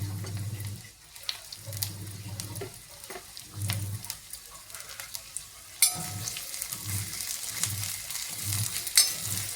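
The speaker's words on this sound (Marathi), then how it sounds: "आता पहिल्यांदा मी आता हा कांदा भाजून घेते." Chopped onion frying in oil in a pan, a gentle sizzle broken by rhythmic scraping strokes of stirring. It is close and moderately quiet and grows brighter and hissier near the end, with no voices.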